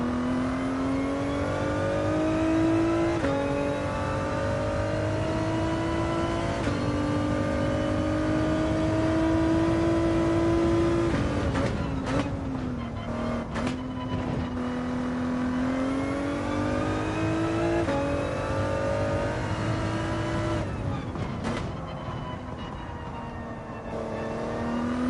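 A racing-game car engine revs steadily and climbs through gear shifts, its pitch rising then dropping at each change, loud and continuous without talk.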